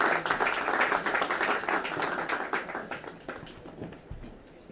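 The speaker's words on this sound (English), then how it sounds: "Give a huge round of applause for our superintendent, Dr. Watlington." An audience at a civic event gives a round of applause for the school superintendent, a dense burst of clapping that starts strong and thins out over a few seconds into scattered claps.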